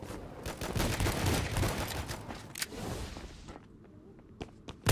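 Rapid gunfire crackles in a video game shootout, dense bursts for the first few seconds before fading, then a couple of isolated sharp shots near the end.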